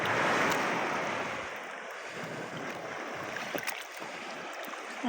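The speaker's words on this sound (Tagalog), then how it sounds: "Ang alon mga idol." Rough sea waves slap and wash against a small fishing boat, a steady, close, roaring surge with wind buffeting the microphone and no voices.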